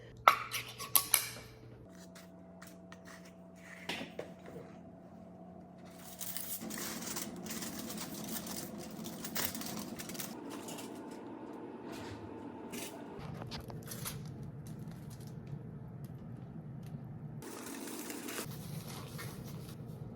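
A 7.25-ounce can of New Zealand corned beef opened outdoors in freezing weather while preparing an umu: a few sharp metallic clinks at first, then a long steady scraping grind with faint clicks, close and unvoiced.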